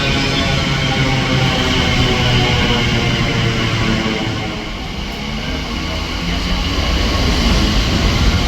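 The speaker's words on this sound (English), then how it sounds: "This was then followed by a boring Elizabeth Line train." An Elizabeth Line train rolls through at Kings Cross station, a loud steady rumble of wheels and motors holding for several seconds, dipping briefly midway before swelling again.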